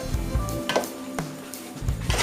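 Tomatoes cook down in a pot over medium heat for homemade ketchup, giving a close, steady sizzle and bubbling with a few soft stirring knocks and no voices.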